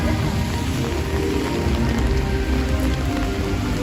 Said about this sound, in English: the rain sounds so soothing